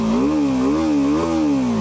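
A BMW F450 GS motorcycle engine revs in neutral, a loud, close, buzzing drone whose pitch rises and dips gently in a few slow swells.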